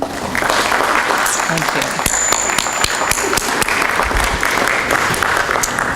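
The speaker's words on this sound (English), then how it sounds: "please give a round of applause to those special people" Applause at a Gettysburg College December graduates recognition ceremony fills the hall as a steady, dense patter of many hands clapping, with a brief spoken thanks over it.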